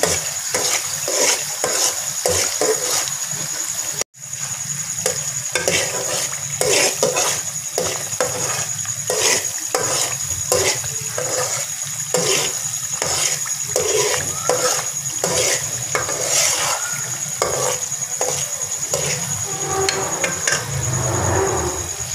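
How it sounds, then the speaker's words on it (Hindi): Khoya fries in a pan over a low flame with a steady sizzle, while a spoon scrapes and stirs in regular rhythmic strokes. The sound is close and loud, breaks briefly once, then continues with no voices. "देखिए हल्की आंच पर हम इसे फ्राई करेंगे बिल्कुल।"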